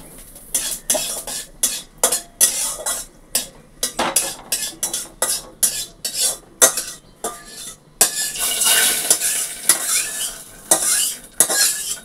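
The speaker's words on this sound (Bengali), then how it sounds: "হয়ে গেল আমার এই যে ডাল ফোড়ন দেওয়া" A spatula scrapes and clatters in a kadai as dal is tempered. The rhythmic stirring strokes repeat over a light sizzle of frying, close and fairly loud, with no talking.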